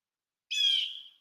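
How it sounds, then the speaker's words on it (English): A single bird of prey call, a sudden high, clear whistling cry that starts sharply after a moment of silence, then trails off and fades over under a second, heard alone and fairly close. "No, that's not a crow. That's a bird of prey."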